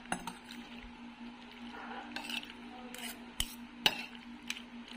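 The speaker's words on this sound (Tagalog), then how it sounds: "Ayan, haluin na natin." A spoon stirs instant macaroni pasta in a pot, with scattered metallic clinks and scrapes against the rim over a low steady hum, a few sharper knocks standing out near the end.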